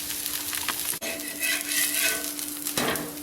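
Beetroot dosa batter cooks on a hot pan with a steady crackling sizzle, close and moderately loud, broken once by a brief sharp click of a utensil; no talking.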